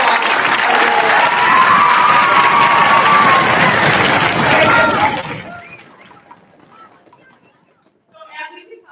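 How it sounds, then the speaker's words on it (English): A crowd of parents and listeners at a sixth-grade school concert breaks into loud applause and cheering that holds steady, then dies away abruptly, leaving quiet room noise and a few faint sounds. "Mr. Dunmeyer and Mr. Kuban, definitely deserve a round of applause"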